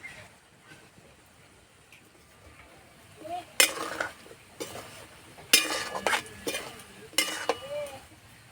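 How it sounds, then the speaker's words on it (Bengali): Peanut pakoras fry gently over low heat in a pan, a soft sizzle under a quiet start, then several bursts of clinking and scraping as a utensil moves them around. "একটু সময় নিয়ে ভাজলে খুব সুন্দর ভাজা হবে।"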